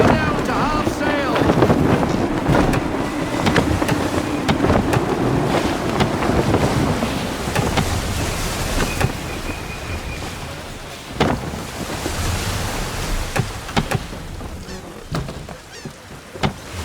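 A sailing ship at sea in Assassin's Creed III, with heavy wind roaring through the rigging and waves washing against the hull, plus occasional creaks and thuds.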